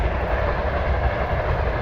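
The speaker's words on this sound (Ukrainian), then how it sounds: "бачите поїзд. Ну, Бачите, ви не бачите, ви чуєте за посадкою." A train passes on a railway beyond a tree line next to a field being sprayed with herbicide, heard as a steady low rumble of rolling wagons that fills the whole clip without pause.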